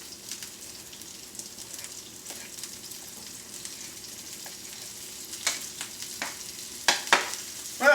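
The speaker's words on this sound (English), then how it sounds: "listen to that sizzle" Sliced yellow squash sizzles in a frying pan with a steady crackling hiss, punctuated by louder pops and stirring scrapes toward the end, close up with no talking.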